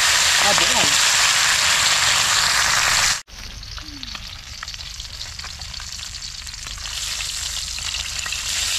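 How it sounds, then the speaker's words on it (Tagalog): Tilapia fries loudly in hot oil, a dense crackling sizzle that cuts off abruptly and then resumes more quietly. A voice speaks briefly near the start. "Iprito ko na ito"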